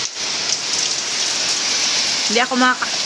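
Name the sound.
heavy rain and wind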